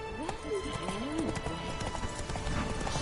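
Horse hooves clip-clop at a steady gallop in The Witcher 3, accompanied by a whinny and a voice speaking over the rhythmic beats.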